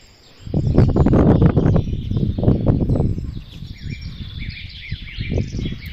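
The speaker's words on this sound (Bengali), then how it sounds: "এত পাখি ডাকছে আজকে" Birds call outdoors in a close, busy chorus of chirps and calls, with louder bursts early that thin out toward the end.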